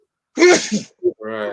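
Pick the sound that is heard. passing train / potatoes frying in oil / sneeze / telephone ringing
sneeze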